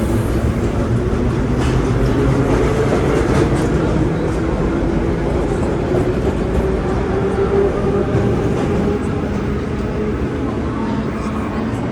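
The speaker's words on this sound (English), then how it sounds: "Very packed train." A steady, dense rumble of a packed New York City subway train running, with a constant roar and murmuring voices mixed into the noise throughout.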